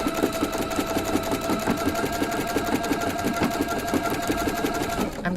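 A sewing machine stitches with monofilament thread, imitating hand quilting, producing a fast, steady mechanical chatter close by with a continuous motor hum throughout.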